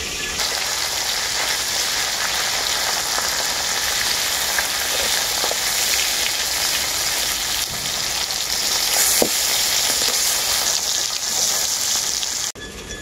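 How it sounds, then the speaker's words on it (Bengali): Fish heads fry in hot oil while a metal spatula breaks them apart, giving a dense continuous sizzle with occasional scraping knocks, loud and close, ending abruptly. "এইভাবে খুন্তি দিয়ে মাছের মাথাগুলোকে ভেঙে নেব আমি।"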